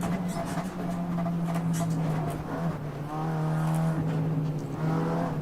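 BMW race car on the Nordschleife in a two-hour race, a continuous engine drone with a shifting pitch as it runs close by, over steady background engine noise and faint voices.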